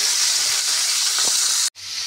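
Leafy greens hit hot oil in a pan with a steady bright sizzle and hiss. The frying goes on continuously, then cuts out abruptly for a split second near the end and resumes.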